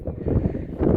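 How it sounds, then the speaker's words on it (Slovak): Strong wind gusting at Palmyra in Syria, a loud low rumble buffeting the microphone steadily for a moment, with no talk. "Fúka veľmi silný vietor."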